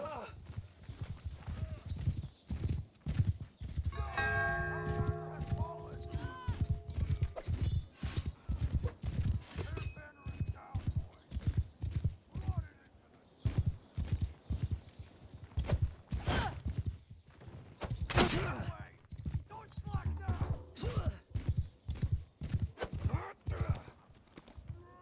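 Horses in the medieval combat game Mount and Blade 2: Bannerlord clatter along in steady clip-clop hoofbeats, with a whinny and chaotic battle noise layered over them, and a voice speaking occasionally.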